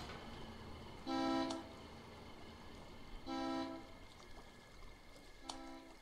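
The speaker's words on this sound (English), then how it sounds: "They do the honking thing so they don't fucking run into each other or us." Vehicle horns honk in the war game Foxhole: three separate steady toots spaced about two seconds apart, each roughly half a second long, over a constant low background hum.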